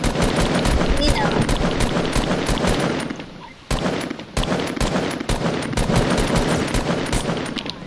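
Rapid machine gun fire and other gunfire from a World War combat video game played on PS4, sustained bursts filling the clip apart from a short lull, with some voice chat mixed in.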